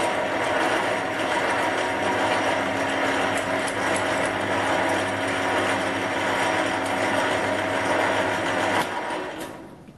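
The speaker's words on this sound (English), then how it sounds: "I'll put on the old lathe and you can get a bit of lathe noise." An old lathe runs steadily with a constant mechanical whir and ticking rattle, loud and close, then winds down near the end.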